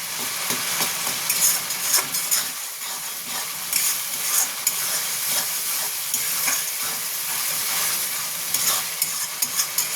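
Spice paste (masala) for pabda fish with poppy-seed paste sizzles steadily in a pan while being sautéed and stirred, with irregular scraping strokes of the spoon over a continuous close, loud frying hiss; no one speaks.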